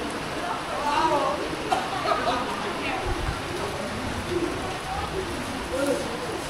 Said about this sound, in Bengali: এবং মুষলধারে বৃষ্টি হচ্ছে